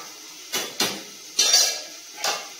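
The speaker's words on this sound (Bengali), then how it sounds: "চালটা ছেড়ে দেবো। নাড়া দিয়ে দেবো ভাতটাতে।" A spoon clanks against a metal cooking pot as rice is stirred, four distinct close metallic knocks spaced unevenly over a couple of seconds, each ringing briefly, with quiet between them.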